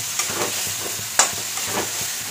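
A spice paste with Kashmiri red chili for aloo dum sizzles and fries in a pan, with a spoon scraping and stirring at intervals over a steady close hiss.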